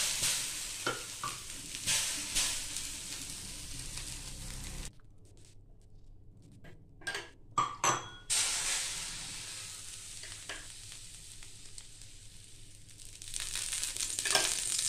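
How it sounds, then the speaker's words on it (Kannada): Plain dosa batter hits a hot pan and fizzes with a steady, close sizzle that breaks off into a few sharp scrapes and taps before the frying hiss swells again. "ಈಗ ನಾವು ದೋಸೆಯನ್ನು ಹಾಕುವುದಕ್ಕೆ ಶುರು ಮಾಡೋಣ."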